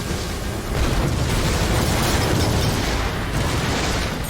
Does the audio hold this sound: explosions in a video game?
yes